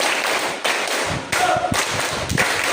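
A class of pupils clapping hands in a counted rhythmic pattern, loud and close, with clusters of sharp claps in quick succession and short pauses between groups.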